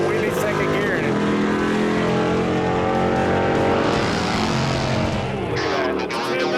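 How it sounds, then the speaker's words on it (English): A 145 cubic inch bagger motorcycle pulls a wheelie in second gear, its engine roaring loud and steady across the run, with other vehicle noise and talk mixed in. "Little bagger going on here. 145 cubic inch."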